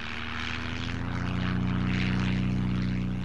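An Etrich Taube, the first Austrian airplane, flies with its propeller engine droning in a steady, loud throbbing buzz that swells slightly as it passes, with no voices.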